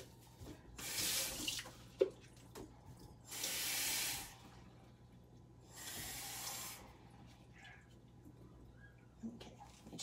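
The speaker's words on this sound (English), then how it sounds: "I'll get the water measured out." Tap water runs into a measuring cup in a home kitchen while making pumpkin cake, coming in three separate bursts of gushing flow with quieter gaps and faint handling between them.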